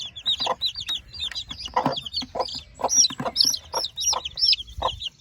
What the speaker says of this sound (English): I've got 4 silver lace Wyandotte hens